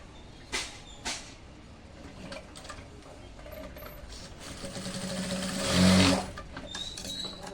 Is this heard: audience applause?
no